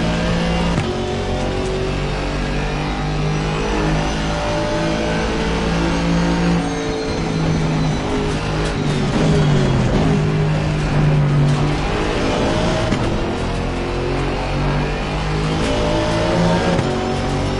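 Racing cars thunder around Bathurst in a multi-class video game race, with a near engine revving steadily through gear changes while other cars whine past and tires squeal briefly.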